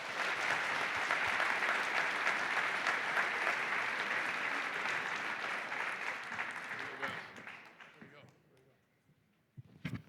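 A keynote audience at Denver Startup Week bursts into loud, sustained applause that fades away over several seconds, followed by near silence and a couple of faint knocks.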